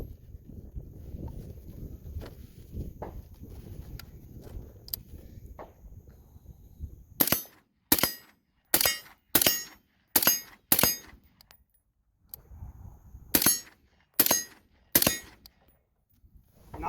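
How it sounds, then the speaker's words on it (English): A 5.56 rifle fitted with an Otter Creek Labs Polonium K suppressor fires at a nearby steel target, with sharp, muffled reports in a quick run of six, a pause, then three more, after a stretch of low outdoor ambience. "So gonna go ahead and run some rounds down range with this guy. All right, we got a steel target out there not too far out."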